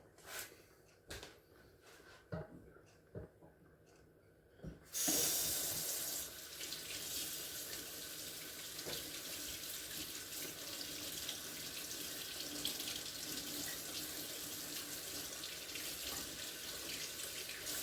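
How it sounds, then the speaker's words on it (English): A kitchen sink tap opens after a few clinks and handling sounds, then runs in a steady loud stream as a spoon is rinsed, continuing evenly to the end. "let me rinse the spoon off"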